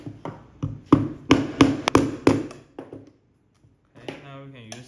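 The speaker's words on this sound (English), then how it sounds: "we're just gonna use something like a hammer" A hammer taps several times in quick succession on an XRV power kit during installation on a table, sharp close knocks followed by a pause and a short voice.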